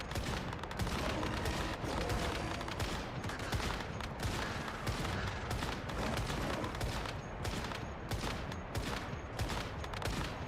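A video game turret fires steadily in a rapid, dense rattle of loud repeated shots that runs without a break throughout.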